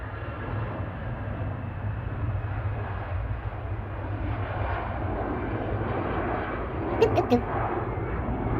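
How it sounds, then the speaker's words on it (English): An EasyJet airliner rolls for takeoff at Manchester Airport, a steady distant jet roar over broad rumbling noise, with a few brief clicks near the end. "EasyJet on the roll to Copenhagen."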